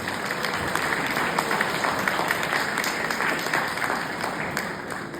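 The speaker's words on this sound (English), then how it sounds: "So a big round of applause to each and every one of them." A large audience at a college event applauds its teachers in a dense, continuous wash of clapping that holds steady and loud throughout with no voices on top.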